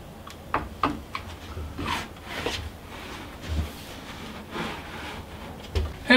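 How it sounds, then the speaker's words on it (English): A screen door is pushed along its frame channel during installation, producing scraping, rubbing slides broken by several light knocks and bumps, with no one speaking. "I can slide the door into that channel."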